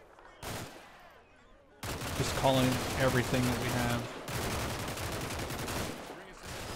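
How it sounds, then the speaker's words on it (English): Dense gunfire rattles across a Combat Mission Shock Force compound defense battle with American and British troops, continuous bursts and overlapping shots filling the scene while a person talks over the shooting. "There's just so much shooting going on"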